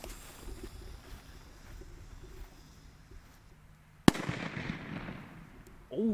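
A German Fire Event B-class firecracker with a grey fuse goes off outdoors in a single sharp, loud bang, followed by a rumbling echo and a brief rustling tail after quieter background noise.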